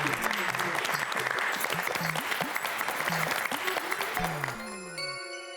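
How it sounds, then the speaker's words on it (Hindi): Loud, sustained applause from a crowd greets trophy presenters at an award ceremony held in a clubhouse. Voices and cheers sound over the dense clapping before it fades out near the end. "जोरदार तालियों से स्वागत करें"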